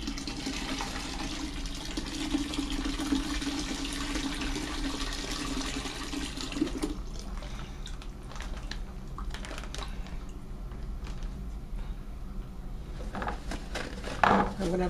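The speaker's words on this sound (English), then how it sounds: "And I'm going to pour that in." Water pours steadily into a fermenter bag for a Merlot wine kit with a gurgling, rushing sound for several seconds, then trails off into quieter splashes and handling noises.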